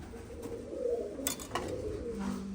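Soft, low cooing from pigeons repeats under a constant background hum, with a few faint clicks and rustles.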